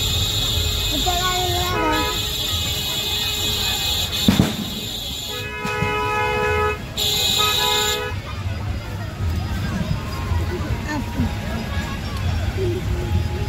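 Vehicle horns honk repeatedly in long sustained blasts as a car drives slowly through a dense village crowd during Chhath Puja festivities, with steady engine and road rumble and people talking throughout.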